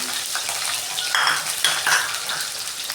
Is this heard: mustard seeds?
yes